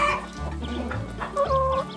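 Hens cluck and murmur close by in a small backyard flock of Polish hens, a Sura and a bantam, with short rising calls repeating several times over two seconds.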